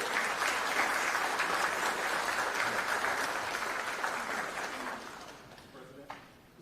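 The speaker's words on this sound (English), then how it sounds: "Let's please give a nice round of applause for our clerk as well as our treasurer." An audience in the Chicago city council chamber claps steadily in sustained applause that fades over the last couple of seconds, leaving room noise and a brief murmur.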